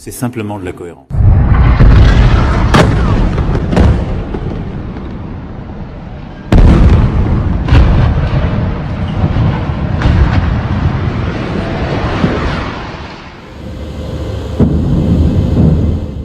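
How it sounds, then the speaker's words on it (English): Bombing in Beirut, a series of deep, heavy booms and rumbling blasts rolling across the city, with loud sudden onsets followed by long sustained roars, and a voice speaking over part of it. "The bombing in Beirut goes on."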